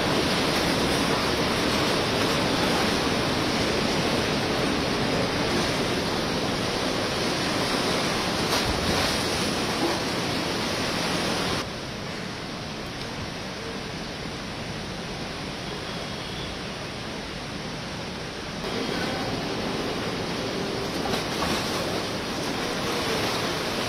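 Floodwater of the swollen Ganga river rushes past riverside houses in Uttarakhand, a loud, steady broadband roar like heavy surf, dipping somewhat quieter midway before swelling back, with no voices.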